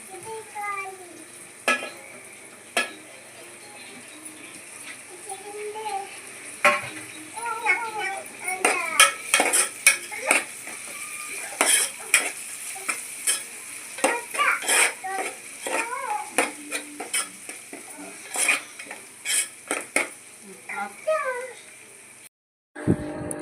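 Onions, curry leaves, green chillies and coriander frying in a pan for a fish curry, with a steady hiss under sharp clinks and scrapes of a spoon stirring against the pan, and scattered voices nearby.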